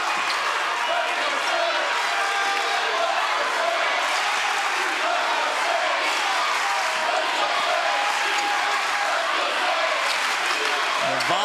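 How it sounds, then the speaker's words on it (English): A high school basketball crowd at St Thomas Aquinas vs Olathe North roars in a dense, continuous wall of cheering, swelling loud and unbroken throughout. "The volume from the crowd has just went up a couple of notches."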